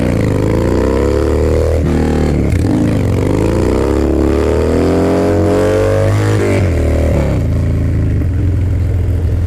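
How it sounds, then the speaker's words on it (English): Harley-Davidson Dyna engine pulling hard during a wheelie attempt in 109-degree heat, a loud, close, deep V-twin rumble rising and falling through several revs and gear changes, with wind buffeting throughout. "I haven't been able to pull off like a legit wheelie on this thing in a long time."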